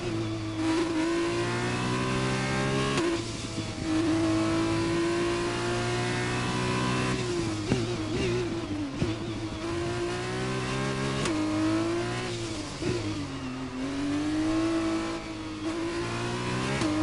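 Formula 1 race car engine in an F1 video game screams at high revs through a lap, a continuous loud whine that dips and climbs with brief drops at gear shifts and braking.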